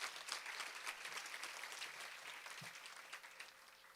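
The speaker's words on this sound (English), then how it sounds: "let's hear a round of applause." Audience applause at an interfaith Thanksgiving dinner fundraiser: steady clapping from a seated crowd that holds at moderate loudness for the whole stretch, fairly distant and without voices on top.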